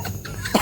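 One short, close cough, abrupt and throaty, heard on its own.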